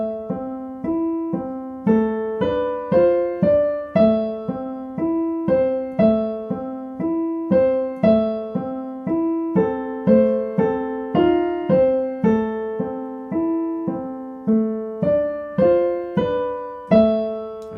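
Tchaikovsky's Swan Lake theme played slowly on piano as broken chords, a steady even pulse of arpeggiated notes repeating for the whole stretch, clear and close with no voices.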